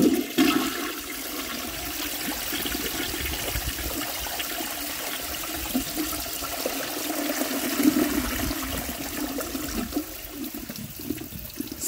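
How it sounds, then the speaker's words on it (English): A 1905 forward trap toilet flushes with a dish towel in the bowl, giving a loud, steady rush and swirl of water that carries on for about twelve seconds, with no talking. "Alright, let's give it a flush."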